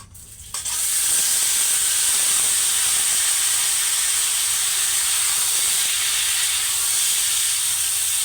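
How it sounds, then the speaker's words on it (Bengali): Mango pieces dropped into a hot spice tempering with turmeric and salt, bursting into a loud, sustained close sizzle after a brief quieter start, steady hiss throughout with no talking. "ফোড়নটা ভাজা হয়ে গেছে এবার এর মধ্যে আমগুলোকে দিয়ে দিতে হবে"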